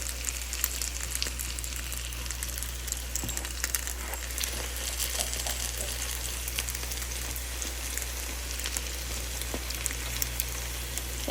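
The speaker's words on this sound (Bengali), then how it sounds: "লালচে লালচে করে ভাজা করছি তাহলে একটু মুচমুচে হবে" Oil sizzles and crackles steadily as spring rolls shallow-fry in a pan over low heat, with scattered pops over a constant low hum.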